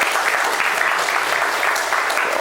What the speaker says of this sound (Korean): 우리 서로의 박수를 한번 수고하셨다고 박수 한번 드리겠습니다.